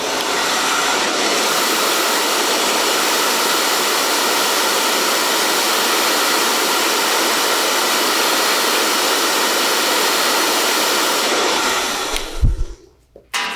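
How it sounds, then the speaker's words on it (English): A hair dryer set to cold air blows loud and steady at close range for about twelve seconds, then cuts off abruptly with a brief clatter. "Then I come back in, hair dryer and cold air,"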